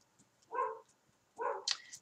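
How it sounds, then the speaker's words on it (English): A dog barks from downstairs, somewhat distant and fairly quiet: one short bark, a pause, then a second bark followed by a brief yelp, with no talking over it. "Excuse my dog barking downstairs."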